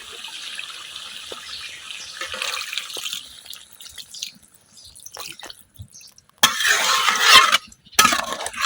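Water is poured from a container into a pot of beef and large vegetable stalks that have been braised dry, giving a loud splashing pour in two bursts after a quieter stretch of kitchen noise.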